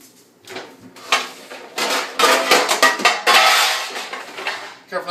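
A whole fish slid onto a pan during prep, with clattering metal and dish sounds, scraping and knocking in several close bursts that build toward the end.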